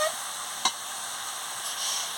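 Cabbage, potato and spices stir-frying together in a pan, a steady close sizzle with one sharp scrape of the spatula partway through.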